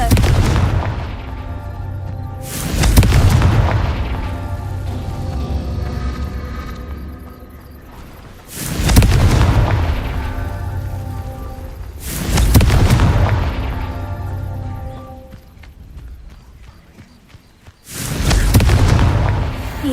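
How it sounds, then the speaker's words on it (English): Confringo spell blasts from Hogwarts Legacy, five loud booming explosions spaced a few seconds apart, each with a heavy low thump and a long rumbling tail. "Confringo!"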